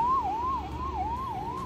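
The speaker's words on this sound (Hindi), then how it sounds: "पीछे एम्बुलेंस आ रही है" An ambulance siren wails through Hyderabad traffic near Charminar, a steady rising-and-falling tone repeating about every half second over a low rumble of engines, loud and close.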